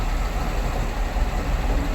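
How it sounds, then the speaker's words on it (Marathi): A loud, steady low rumble with broad noise, like a heavy train rushing past close by, continuous throughout. "बघू शकता ट्रेन किती फास्ट गेली बा"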